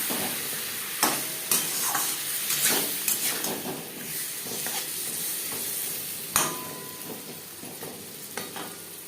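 Spices, ginger, green chilli and tomato being stirred and fried in a pan for katla fish curry with potato, a steady close sizzle broken by repeated scraping strokes of the spoon.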